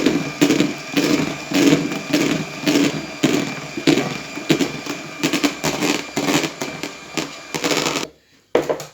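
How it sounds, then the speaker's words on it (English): Egg whites whisked to stiff peaks in a clean bowl, an electric mixer buzzing in loud rhythmic pulses that repeat about twice a second before cutting off abruptly near the end. "we just need to whisk these up to stiff peaks"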